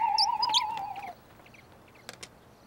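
A small whistle is blown to imitate bird chirps: a steady, sustained tone with brief chirpy flicks, lasting about a second, then a couple of faint clicks in a quiet background.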